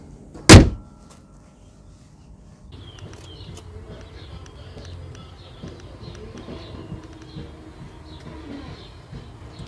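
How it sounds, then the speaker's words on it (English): Hood of a 2019 Mercedes CLA being shut, one sharp loud slam near the start, followed by quiet outdoor ambience with faint birds cooing. "So let's close the hood again"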